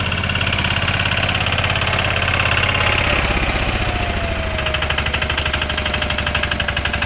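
A used Kubota KRT140 walking tractor runs with a loud, steady, rapid chugging thump throughout. The engine is heard close up and alone.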